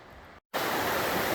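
A waterfall fed by snow melt-off near a mountain lake roars as a dense, steady rush of water that cuts out briefly, then returns louder and closer.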